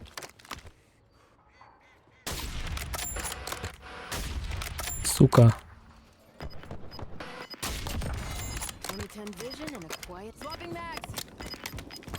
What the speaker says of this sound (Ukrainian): там хтось стріляє